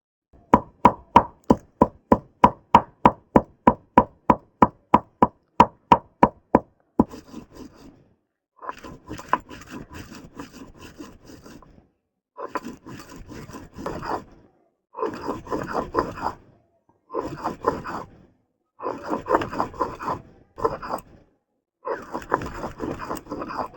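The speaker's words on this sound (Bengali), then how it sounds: "বেটে নেব রসুন আর শুকনো লঙ্কা" Garlic and dried red chillies are ground into a paste: first a quick, even run of about fifteen sharp pounding strokes, then rhythmic scraping grinding in repeated bursts, close and loud.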